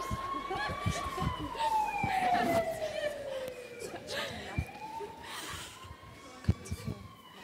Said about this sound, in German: Der Krankenwagen ist da.